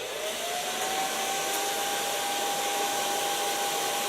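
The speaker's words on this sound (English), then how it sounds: "start blow drying" A hair dryer blows a loud, continuous rushing whine throughout while medium-long hair is blow-dried with a brush, with no talking.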